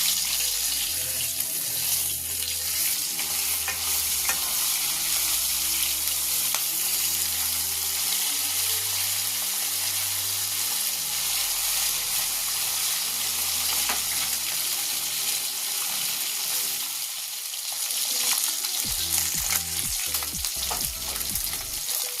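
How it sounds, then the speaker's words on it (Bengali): Koi fish seasoned with salt and turmeric keep frying in hot oil after being turned over, a close, steady hiss and crackle broken by occasional clatter from handling the pan, with no talk. "দেখুন বন্ধুরা, 1 পিঠ মাছ ভাজা হয়ে গেছে। এবার আমি উল্টে দিচ্ছি।"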